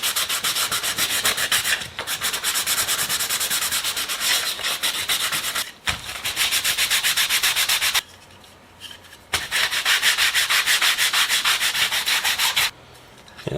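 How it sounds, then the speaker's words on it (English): Hand sanding of a forged carbon fiber mold part, a steady rapid back-and-forth scratchy rubbing, close and loud, broken by a few short pauses. "It also doesn't hurt to sand around this outside on the flat areas here"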